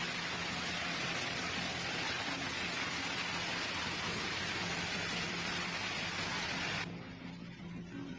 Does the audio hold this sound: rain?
yes